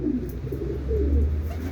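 A wounded racing pigeon coos softly close by, a low rolling call repeated over a couple of seconds with no other sounds.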